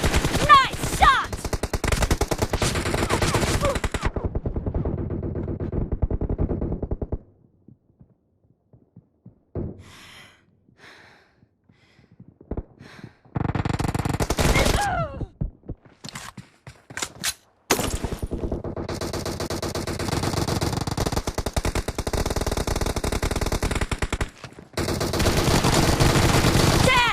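Automatic gunfire in PUBG, played on a Redmi Note 10 Pro phone, comes as loud, rapid bursts. The shooting drops out for a quiet stretch partway through, then resumes with further sustained volleys.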